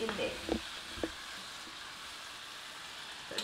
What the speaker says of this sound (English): See, the sizzle in there.